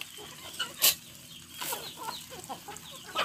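Farm chickens, hens being fed corn, cluck and squawk close by in scattered bursts, with one sharp loud call, over a quiet outdoor background and no talking.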